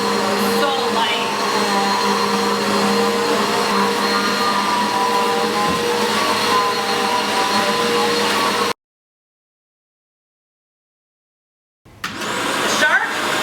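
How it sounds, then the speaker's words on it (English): A Eureka vacuum cleaner on its low carpet setting runs with a loud, high-pitched whining drone for several seconds, cuts to silence, then resumes briefly. "Oh, I love the sound of this vacuum."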